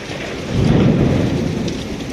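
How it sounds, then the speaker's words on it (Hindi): Thunder rolls in a low, swelling rumble over steady rainfall, peaking briefly before fading back into the patter of rain. "बाहर ना बिजली कड़क रही खतरनाक वाली"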